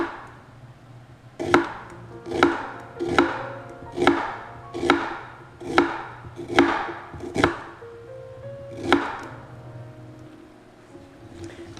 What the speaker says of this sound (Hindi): तो हम इनको पहले चॉप कर लेंगे फ़ाइन।